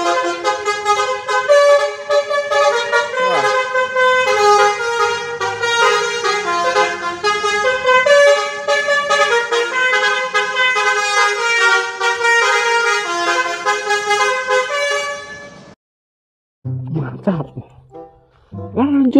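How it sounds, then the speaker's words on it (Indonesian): Loud, sustained multi-tone horns blare for about fifteen seconds as a Gunung Harta bus passes nearby, then stop, followed by brief voices. "kali ini ada bus Gunung Harta teman-teman"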